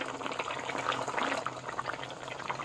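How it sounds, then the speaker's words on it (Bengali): Katla fish curry bubbles gently in a pot, a soft, continuous burbling simmer heard close up and fairly quiet, with no voices. "এবার মাছটা দিয়ে কিছুক্ষণ মতন একটু ফোটাবো"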